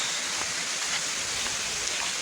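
A waterfall in Sabang pours as a steady, close broadband rush with no breaks, and no voices over it.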